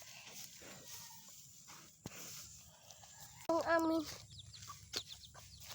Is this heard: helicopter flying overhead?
no